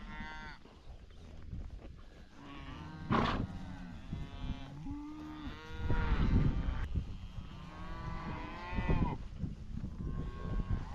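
A herd of late-born calves and cows moo and bawl repeatedly at a steady pace. The calls are of varied pitch and overlap, some close and some farther off, against a faint outdoor background.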